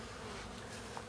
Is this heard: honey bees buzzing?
yes